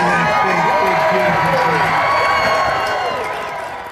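A large crowd at a Trump rally cheers and shouts loudly, with scattered whoops and clapping. Voices rise and fall over the steady roar, which fades slightly toward the end.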